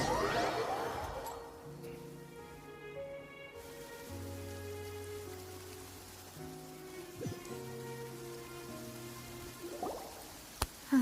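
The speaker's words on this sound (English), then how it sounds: "It's been raining non-stop for a few days now." Steady rain falling in Genshin Impact, a soft hiss with scattered drips under gentle tonal music and a few brief impacts near the end.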